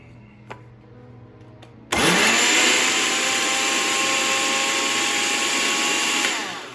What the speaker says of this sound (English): let me grind those first